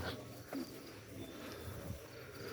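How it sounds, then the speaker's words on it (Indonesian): A dense, steady insect drone fills the air, a continuous buzzing chorus like cicadas in a humid forest, with no voices. "Apalagi ada bunyi tonggeret."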